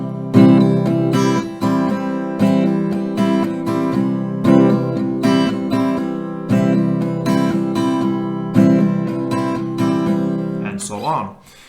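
Acoustic guitar strums chords in a steady down-down-up pattern of loud, close strokes that continues for about eleven seconds before a final scrape of the strings.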